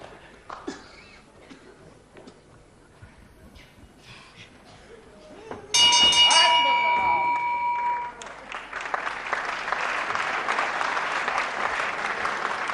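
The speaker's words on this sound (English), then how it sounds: "Good round of applause for both these men." Audience applause at a televised professional wrestling match, a scattered clap or two at first, then a full burst of clapping that carries on steadily to the end, with a commentator talking beneath it.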